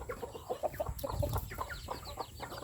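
A rooster with its chicks makes repeated short clucks and chirps close by, a steady string of soft calls with no talking.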